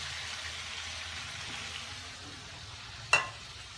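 Chicken fries in a pan for a chicken ginger dish, giving a steady, soft sizzling hiss throughout, with one sharp clink near the end.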